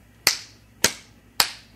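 Three sharp hand claps ring out close by, evenly spaced about half a second apart, each a crisp single slap with a short decay and nothing else around them.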